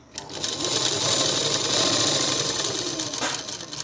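A sewing machine runs steadily while stitching a salwar, its even mechanical whir holding for nearly four seconds at close range with no talk over it.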